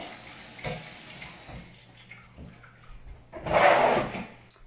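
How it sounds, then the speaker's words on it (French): Hands are rinsed under running tap water while baking a maple cake; faint handling sounds lead into a brief, close rush of water lasting about a second, then a small knock. "Je vais juste me laver les mains"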